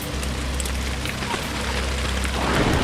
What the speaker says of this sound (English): it's really coming down. That's huge chunks of hail.